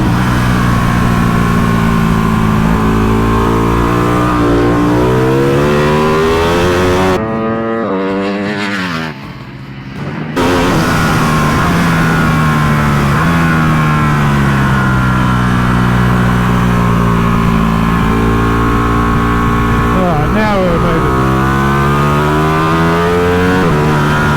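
A motorbike engine on a racing circuit track day runs loud and close, revving up and down through gear changes, with a brief drop in the middle before the roar returns.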